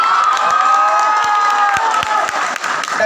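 Loud, sustained applause and cheering from an audience at a college event, with crowd shouts rising over steady clapping for about three seconds.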